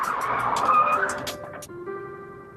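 A car skids through a J-turn after reaching 50 km/h, producing a loud, sustained tire squeal with high whining tones that shift pitch midway through the spin. Engine noise sits beneath it.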